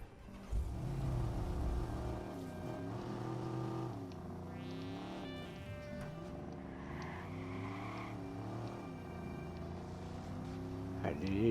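A muscle car engine in Watch Dogs drones and rises through gear changes, a continuous revving hum with shifting pitch under someone talking.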